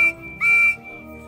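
Two clear tonal toots from the whistle of Percy, the small green number 6 saddle tank engine on the Fat Controller's railway, a short blast followed by a longer one.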